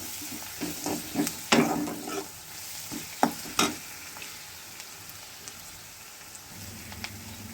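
Onions and dried red chillies sauté in a pan, producing a soft continuous sizzle broken by several distinct scraping stirs of a spoon, close and fairly quiet, with no talking.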